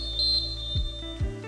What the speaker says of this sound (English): this is the little bell that is integrated into the bicycle.